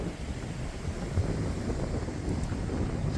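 Steady outdoor wind rushes and buffets against the microphone in a continuous low roar, loud and unbroken, with no voices.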